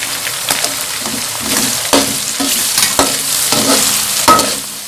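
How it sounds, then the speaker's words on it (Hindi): Spices, green chilli, tomato and lemon frying in a hot pan, a steady close sizzle broken by repeated scraping stirs of a spoon, with no talking. "एक से 2 मिनट के लिए फ्राई करेंगे।"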